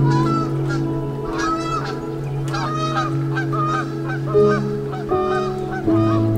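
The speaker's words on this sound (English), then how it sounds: "There's geese." Geese honking loudly and repeatedly at a lake, several birds calling over one another close by, with a steady low hum underneath.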